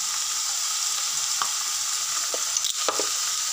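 Paneer frying in oil with salt, turmeric and cumin powder, a steady close sizzle with a few light clicks of a spatula against the pan, no voices.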